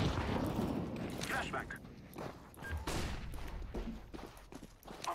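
Gunfire in a Counter-Strike: Global Offensive match, dense bursts of shots and impacts through a loud, continuous firefight, with a player talking over the action.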